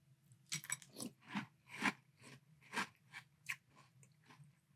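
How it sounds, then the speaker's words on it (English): Crunchy bites and chewing of Cap'n Crunch Orange Cream Pop cereal in milk come close up, about ten irregular crunches in a row with quiet pauses between them and no talking. "let us try Cap'n Crunch's Orange Cream Pop Crunch in milk"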